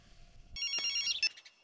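A mobile phone rings with a bright electronic tone that starts abruptly after a quiet moment and sounds close and clear, with no talk over it.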